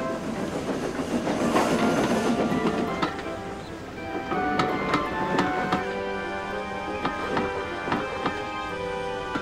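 A steam engine train from an animated children's show rushes past with rolling wheel clatter and rail noise, loud and close throughout, with sharp clicks and rhythmic clacks from the wagons.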